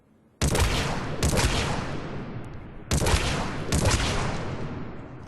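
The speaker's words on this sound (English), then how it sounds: "So this is very short range with the Disciple shotgun." Disciple shotgun in the video game Mass Effect 3 firing at very short range, four loud close blasts in two spaced pairs, each with a long rumbling tail, no talk.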